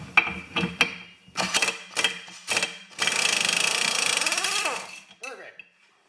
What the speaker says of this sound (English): I'm gonna just stick it in the vise and use my air tool here to get this off